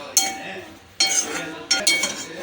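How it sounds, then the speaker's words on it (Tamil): Tamarind is sautéed in a kadai. A spatula stirs and scrapes against the pan in three short bursts of metallic clinks and scraping, close by, with quiet gaps between. "புளி வந்து லேசாக சூடாகி வரட்டும் நம்ம அப்படியே வதக்கிக்கலாம்"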